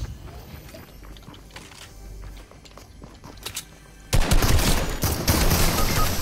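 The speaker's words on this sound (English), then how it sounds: "The grenade, I shoot a grenade." Grenade fire in Fortnite: scattered quieter shots and thuds, then a sudden loud barrage of rapid blasts that keeps going, with no talk.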